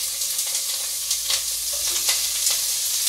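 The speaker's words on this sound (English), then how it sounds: "Hear that sizzle." Vegetables sizzle steadily in a hot pan, a constant bright crackle with a few louder pops and scrapes as they are stirred.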